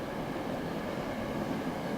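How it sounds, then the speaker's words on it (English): A passing train rumbles steadily in the background, a continuous broadband roar at moderate distance with no talk over it. "Wait for the train is gone."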